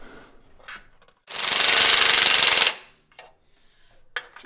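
A ratchet wrench snugging exhaust manifold bolts on a Jeep ZJ 4.0 engine during an overhaul, one sustained rapid clicking burst of about a second and a half, close and loud, with a few faint metallic taps around it.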